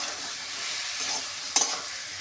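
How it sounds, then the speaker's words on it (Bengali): Potato curry with puréed and chopped tomatoes, cumin powder and salt sautéing in a pan, a steady close sizzle with a brief stirring scrape partway through. "পরিমাণ মতন নুন দিয়ে এটা ভালো করে কষিয়ে দেবো।"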